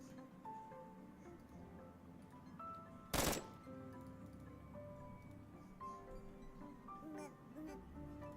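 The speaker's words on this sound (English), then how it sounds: "where are these gunshots coming from?" Video game gunfire: a single sharp loud burst stands out over faint background game sound and music, with quieter ticks and rustles around it.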